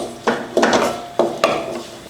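Shallots and grated coconut dry-roasting in a pan, heard as several distinct scraping clatters of a spatula against metal spaced through a couple of seconds, with a faint sizzle underneath.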